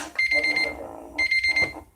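A nail lamp timer alarm beeps in two short bursts of rapid high-pitched tones, close and clear, with a faint voice underneath.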